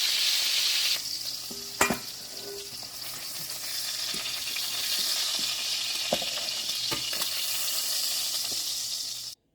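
Swordfish steaks sear in a hot pan with a steady, close sizzle throughout, broken by a few sharp clicks and light knocks of utensils; no talk.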